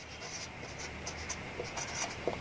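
Marker or chalk writing a sentence on a classroom board, heard as faint, soft scratchy strokes in short bursts against a quiet room hum, with no talking.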